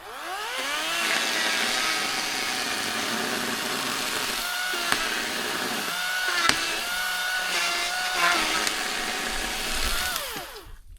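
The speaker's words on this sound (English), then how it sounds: "The electric chainsaw that I've got is not an expensive chainsaw." An inexpensive electric chainsaw drones continuously while clearing a pond, its motor pitch rising and dipping as it bites, with a few sharp cracks of wood breaking partway through.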